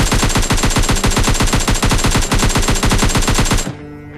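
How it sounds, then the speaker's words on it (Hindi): Rapid automatic gunfire from the PUBG battle-royale game, a dense unbroken burst of shots lasting several seconds, loud and close, that cuts off abruptly and leaves a low ringing tail. "मैं इस बंदे को देखता हूँ और फ्री फायर करता हूँ"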